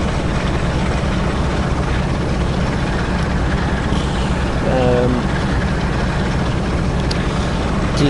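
Diesel locomotive engine in Train Sim World on the Trans Pennine route, a steady loud low rumble and drone throughout with a brief tonal whine midway, no speech over it.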